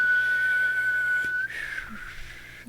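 Someone attempting to whistle produces a thin, steady whistled tone that wavers and breaks into breathy air near the end, heard alone and fairly close.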